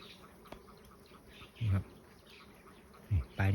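Dwarf honeybees at a nest in thick scrub: a faint, steady insect hum runs throughout, broken by a few short, louder low-pitched bursts close by.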